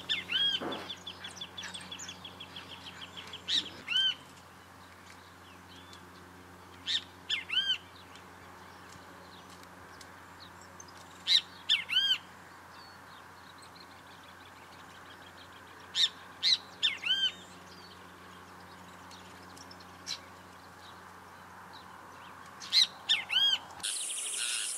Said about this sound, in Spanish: En esta oportunidad vimos al venteveo.